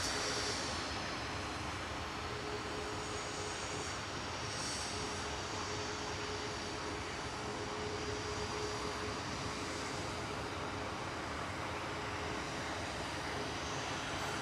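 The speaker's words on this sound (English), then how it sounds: "Ryanair from Alicante touching down." A Ryanair Boeing 737 MAX 8 from Alicante touches down at Manchester Airport, a steady, wide roar of jet noise holding level throughout without pause.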